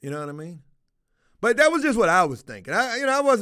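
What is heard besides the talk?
No distinct noise like a dog, phone or traffic.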